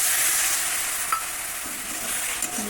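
Spice masala being fried down in a pan for a Bengali potato and soybean curry, a loud continuous sizzle with soft scraping stirs and no talking.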